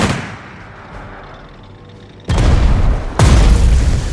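Gunfire and explosions in the war strategy video game Strategic Mind: a quieter stretch of distant battle noise gives way to two loud booming blasts, each followed by a sustained roar.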